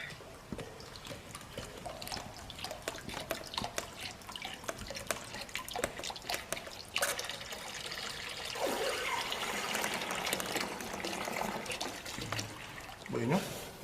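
Water drains and dribbles out of the open end of a hose, trickling and splashing unevenly with a faint voice in the background.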